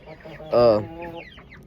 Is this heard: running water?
no